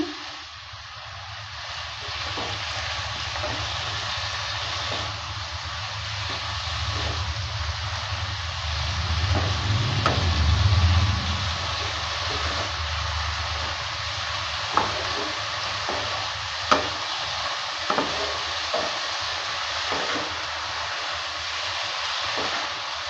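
Chopped mustard greens frying in a pan, a long, even hiss over a low hum, with a few faint clicks of stirring near the end and no voices.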